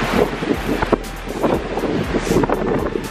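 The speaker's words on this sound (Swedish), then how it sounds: "Åh, jäklar, blåser." A strong storm wind blows by the sea on Åland and batters the microphone with loud, uneven gusts and a constant low rumble, with no voices over it.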